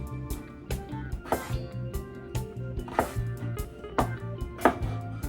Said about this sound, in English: I'm also gonna dice my potato.